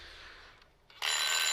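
Telephone bell ringing loudly and continuously, a steady bright ring that pauses briefly and then resumes at full strength, heard alone.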